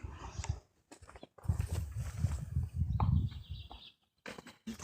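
A horse's hooves clip-clop close by in a rough walking rhythm, mixed with shuffling, faint outdoor noise and a few short quiet gaps.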